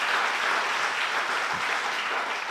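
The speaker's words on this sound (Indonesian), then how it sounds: "Beri tepuk tangan lagi untuk Tuhan kita." A church congregation claps during a Sunday worship service, a steady wash of applause from many hands, moderately loud and continuous without speech.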